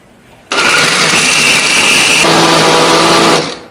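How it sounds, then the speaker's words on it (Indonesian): An electric blender grinding cooked spices runs loud and close, starting abruptly then whirring steadily with a slight pitch change partway before cutting off. "di sini aku menghaluskannya menggunakan blender"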